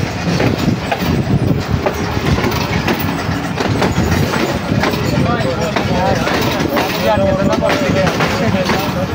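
The Allama Iqbal Express running at speed between Jahanian and Duniyapur in Pakistan, a loud steady rumble of wheels and carriages with rhythmic clatter, while someone talks over it.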